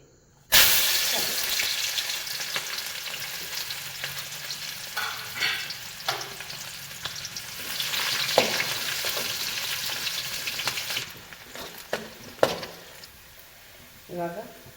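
Sliced onion dropped into hot oil bursts into loud sizzling, then keeps frying with steady crackle and hiss while a ladle stirs and scrapes the pan now and then, close up.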